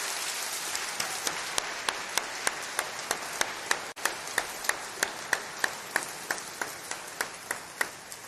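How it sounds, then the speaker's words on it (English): An audience at a university graduation ceremony applauds steadily, with dense, even clapping over the whole stretch and a few sharper individual claps standing out, and no talk. "That does deserve a round of applause."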